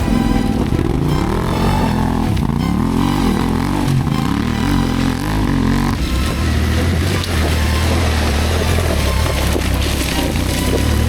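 A dirt bike climbs a steep, gnarly hill on a switchback in second gear at nearly wide-open throttle. The engine roars loud and close throughout, rising and falling in pitch with rattling and scraping from the trail.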